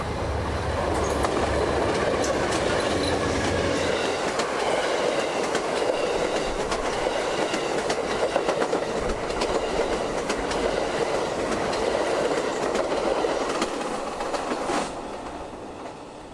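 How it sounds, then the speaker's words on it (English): Amtrak 91 passenger train climbing a hill toward its Lakeland station stop, a loud, steady roar of engines and rolling cars with rhythmic wheel clatter and some squeal, fading slightly at the end. "today's Amtrak 91, climbing up the hill to its Lakeland station stop"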